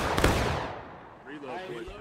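A musket volley in the video game War of Rights: one loud ragged crash of many guns firing almost at once, decaying into a rolling echo, followed by voices talking.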